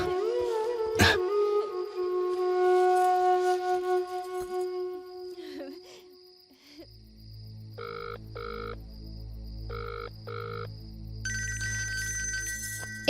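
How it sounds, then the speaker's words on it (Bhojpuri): A mobile phone ringtone plays a sustained melodic tone that gives way to a repeating pattern of electronic beeps, fairly loud and alone. "ए जी भैया के फोन।"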